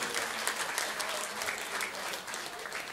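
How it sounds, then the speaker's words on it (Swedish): A concert crowd in Fagersta, Sweden, applauds a band steadily, dense clapping at an even level for the whole stretch, with no voices on top. "Vi ger dem en varm applåd."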